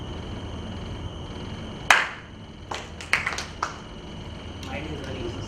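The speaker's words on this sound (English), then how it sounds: "We just start a process of clapping." A group in a classroom-style session claps along with a teacher, with a handful of sharp, scattered claps and short bursts spread over a few seconds, fairly faint, amid light background talk.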